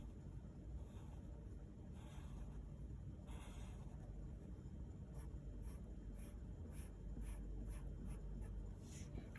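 A pen scratching crisscross hash marks on paper in short repeated bursts of strokes, faint and close against a low steady background hum.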